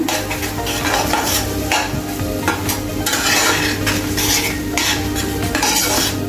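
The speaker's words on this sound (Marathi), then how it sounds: "आता आपण हे व्यवस्थित वाटण ह्याच्यामध्ये परतून घेऊया." Ground masala paste of chilli and spices stirred and fried in a pan for dhaba-style lasuni methi, a loud continuous sizzle with repeated metal spoon scrapes against the pan throughout.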